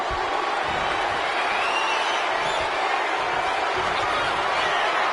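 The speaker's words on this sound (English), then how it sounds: "this crowd is on their feet in full appreciation" Arena crowd cheering in the WWE 2K25 wrestling game at Bash in Berlin, a steady, loud roar of many voices holding through the whole stretch without a break.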